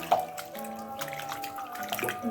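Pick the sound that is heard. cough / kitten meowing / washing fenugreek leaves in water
washing fenugreek leaves in water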